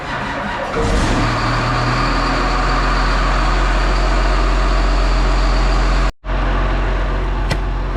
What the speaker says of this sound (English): First things first, we gotta get the truck fired up.